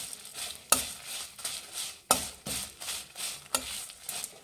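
Whole spices and dried red chillies dry-roasting on a low flame in a pan for bisi bele bath powder, with a spoon stirring them in a scraping rhythm and sharp clacks against the pan at about 0.7, 2.1 and 3.5 seconds.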